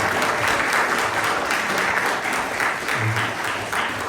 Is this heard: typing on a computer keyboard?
no